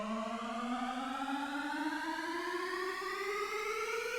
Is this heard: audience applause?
no